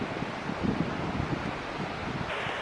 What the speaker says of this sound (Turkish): dalgalar sahile vuruyor